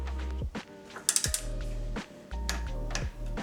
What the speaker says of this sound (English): don't forget to tighten the stem bolts with 5 Newton meters